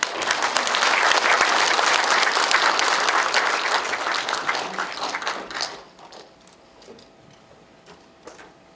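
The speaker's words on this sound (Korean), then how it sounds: "큰 박수 부탁드리겠습니다." Loud, dense applause from a large audience at a ceremony marking the 104th anniversary of the Korean Provisional Government's founding, sustained for several seconds before thinning into a few scattered claps and quiet.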